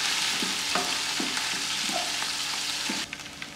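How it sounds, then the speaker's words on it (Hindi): Garlic and ginger paste frying in a pan for a pulao, a soft continuous sizzle broken by several light spatula scrapes and stirs at an even pace, with no talking. "इसके अंदर जाएगी अदरक, थोड़ी देर के लिए फ्राई करेंगे तकरीबन 1 मिनट के लिए"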